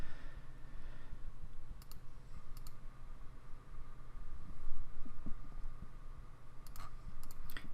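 Computer mouse clicks during QuickBooks Online setup, a few sharp clicks, some doubled, heard faintly over a steady background hiss with no speech.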